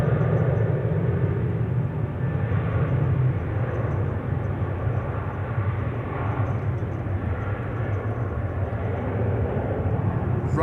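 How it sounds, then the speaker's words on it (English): A KLM Boeing 737-900 jet bound for Geneva at Amsterdam Schiphol Airport, a loud steady low engine roar and rumble that holds constant throughout, with no voices over it. "this is the 737-900 to Geneva, KLM flight 1931"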